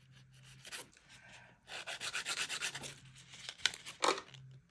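Gritty rasping of a 100-grit nail file worked along the sides of acrylic nails, coming in short uneven bursts with pauses between strokes, fairly close and moderately quiet.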